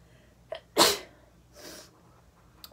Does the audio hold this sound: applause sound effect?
no